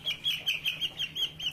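Sonali hybrid chicken chicks, twenty days old, chirp in a quick, steady series of high peeps, close and clear, with a low steady hum beneath.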